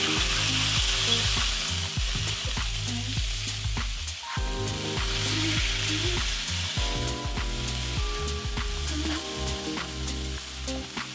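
Smash burger patties sizzling on a hot cooking surface, a steady bright crackle with occasional scraping and clinks over background music, close and continuous.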